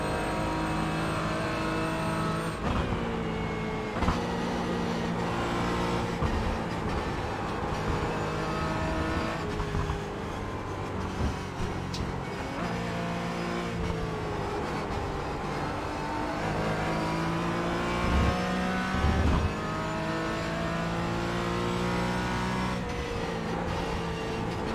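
A BMW GT4 race car in the iRacing sim holds a steady, loud engine drone throughout, with shifting pitch sweeps as it revs up and down through gears, alone with no talk.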